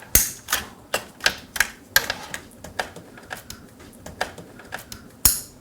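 Cable connectors snapping into Smart CT current-sensor ports while daisy-chaining pigtails during a Verdigris install, a series of sharp, close plastic clicks arriving irregularly, about a dozen in quick succession, with no talking.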